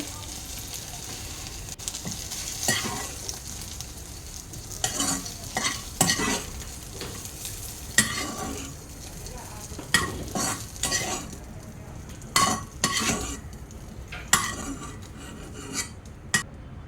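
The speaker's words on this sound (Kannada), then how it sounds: "ಇದು ಈಗ ಬೆಂಡೆಕಾಯಿ ಫ್ರೈ ಆಗಿದೆ." Okra (ladyfinger) frying in a kadai, with a steady sizzle under repeated scraping, stirring strokes of a spatula against the pan, close and fairly loud, no talking.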